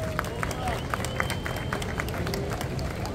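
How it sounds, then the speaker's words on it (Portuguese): Audience at a surf festival awards podium in Saquarema clapping for the mayor, steady scattered applause with crowd murmur beneath, moderately distant. "uma salva de palmas, galera"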